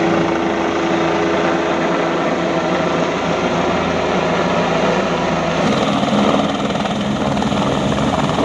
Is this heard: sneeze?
no